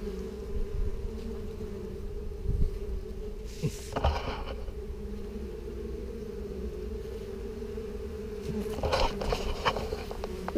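Honeybees fly in and out of a hive, a close, continuous buzzing hum with passing swells as individual bees fly near, plus a few faint knocks.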